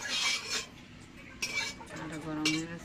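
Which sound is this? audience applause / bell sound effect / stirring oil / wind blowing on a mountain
stirring oil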